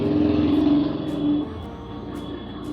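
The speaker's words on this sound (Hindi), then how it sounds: "आपके कान में जो गाड़ी की आवाज़ सुनाई दे रही है उसको इग्नोर मारो" Car engine running outside, a steady low rumble that swells slightly and then settles, close and fairly loud.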